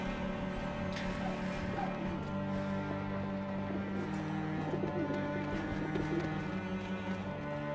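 Pigeons cooing in the video game Alice: Madness Returns, soft repeated coos over a steady low ambient hum, with a faint ticking in the background and no speech.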